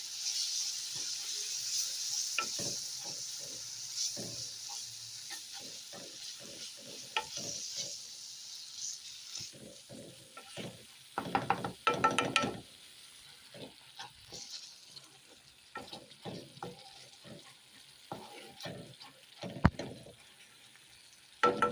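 Paneer bhurji sizzles and crackles in a pan just after water is added, with steady frying hiss and repeated scraping stir strokes of a spatula, close and fairly quiet, no talking.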